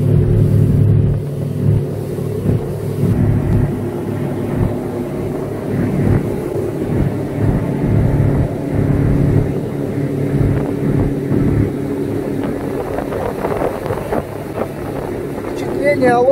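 A motorboat, a NorthSilver 520 Fish with a Mercury 80 EFI outboard engine, drones steadily and close for the whole stretch, with a low constant hum mixed with wind buffeting against the microphone.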